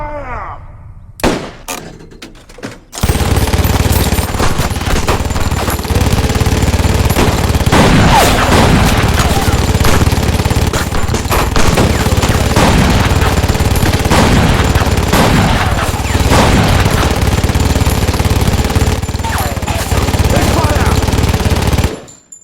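A sustained burst of gunfire erupts on a shouted command to fire, loud and close, with overlapping rapid shots rattling continuously for nearly twenty seconds after a brief opening shout.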